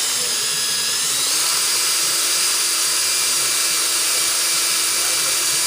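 A power drill spinning a nylon-bristle brush to scrub a transmission part from a 1999 Honda Accord automatic gearbox, a steady whirring hiss that holds at low speed, close and continuous throughout.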